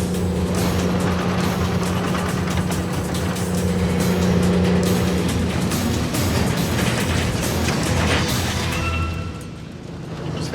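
A truck drives hard through a deep flooded road, its engine roaring under load while water surges and sprays around it in a loud, sustained rush that eases near the end.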